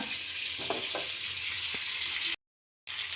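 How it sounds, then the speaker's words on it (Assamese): Bay leaf, dried chili, panch phoron and hing sizzle in hot oil with a steady, bright frying hiss and a few soft pops, briefly cutting out before resuming. "তেজপাত, শুকান জলকীয়া আৰু অকণমান পাঁচফোৰণ আৰু অকণমান হিং দিলোঁ"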